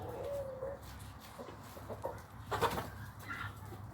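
Hens clucking softly among other farmyard birds, with a few short clucks and calls rising above a steady low background.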